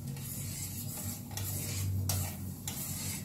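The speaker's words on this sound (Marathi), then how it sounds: "आपल्याला ही साखर वितळेपर्यंत हे असं ढवळत राहायचंय।" A spoon steadily stirs sugar into water in a wide pan to make syrup for bread gulab jamun, a soft continuous scraping and swishing with a few brief clinks. The sound is close and fairly quiet, with no talk.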